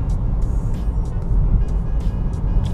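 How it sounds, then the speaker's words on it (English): A 2018 Honda Accord Touring accelerates hard, its engine and road roar loud and close inside the cabin, with a few brief higher clicks or tones over the rumble. "You put the gas pedal down and the car just wants to go."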